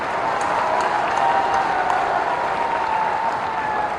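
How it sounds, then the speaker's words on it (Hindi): A large crowd at a political rally in Chambal breaks into steady, dense applause, a continuous roar of clapping that stays loud and even throughout with a faint murmur of voices beneath. "अभी बजानी है चंबल की ताली।"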